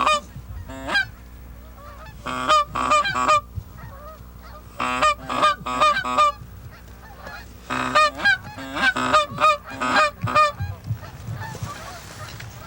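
Geese honk over a corn field in bursts of loud, close calls, in several overlapping clusters separated by short quieter gaps.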